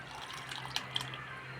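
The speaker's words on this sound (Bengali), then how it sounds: "দুধটা এবার দিয়ে দিচ্ছি" Milk being poured into a pot for payesh makes a faint, soft liquid trickle with a couple of small splashy drips, over a low steady hum.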